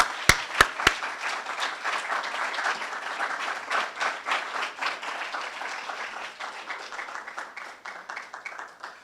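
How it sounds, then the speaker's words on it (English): An audience at a medical faculty oath taking ceremony applauds; a few sharp, close claps lead into a steady round of clapping that gradually thins and softens. "The new doctors would like me to join with them in giving you a round of applause for your support."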